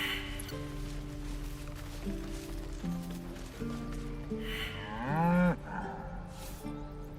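A cow moos in Baldur's Gate 3 over a sustained game music bed. A single long, bending low moo rises loud near the end, and a voice may imitate the moo.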